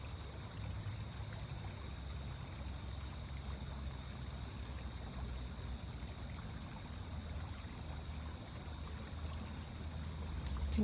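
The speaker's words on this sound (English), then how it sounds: "Can you hear the water?" Flowing water where Turtle Creek meets the Rock River, a steady outdoor rush of stream noise with low rumble, continuous and fairly faint throughout with no talking.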